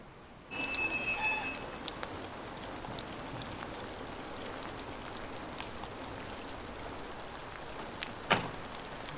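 Steady rain patters and hisses on surfaces after a sudden onset, a dense even wash of drops with one louder knock near the end and no voices.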